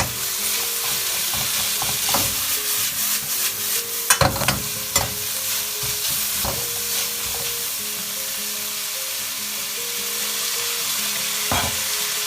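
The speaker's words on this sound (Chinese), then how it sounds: "开中大火，不停的翻炒，要保证每一根青椒丝都能充分的接触到热油" Green pepper strips and pork stir-fried in hot oil over medium-high heat, a continuous loud sizzle broken by repeated sharp scrapes and knocks of the spatula against the wok, strongest near the middle; no talking.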